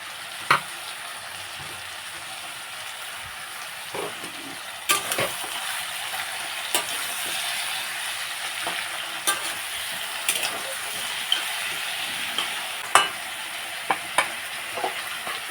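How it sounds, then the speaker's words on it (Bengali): Eggplant and tomatoes frying in a pan for a tangra fish curry, a long steady sizzle punctuated by sharp clicks and scrapes of a spatula at irregular intervals, close by. "সবজিগুলো আমি ভেজে নিলাম।"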